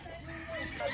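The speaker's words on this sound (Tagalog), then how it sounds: "Binitbit na namin yung mga inahin." Faint clucking of hens amid a noisy background, soft and somewhat distant.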